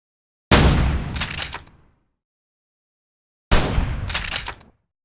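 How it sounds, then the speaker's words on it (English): Two loud, booming video game shotgun blasts layered with cannon fire samples, a few seconds apart, each with a deep heavy low end and a short mechanical rattle trailing off. "The shotgun, for example, 2 of the variations have cannon fire samples"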